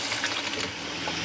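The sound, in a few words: water running from a tap in an RV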